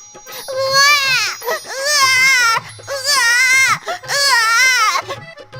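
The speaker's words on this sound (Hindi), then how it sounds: "बच्चे के रोने की आवाज सुनाई देने लगी" An infant cries loudly and close up in three long wailing bursts separated by brief breaths, a sound effect for a magic paper egg hatching.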